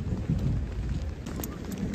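Steady heavy rain hisses and patters outdoors after school, with a low rumble of thunder running beneath it, loud and continuous, and no voices.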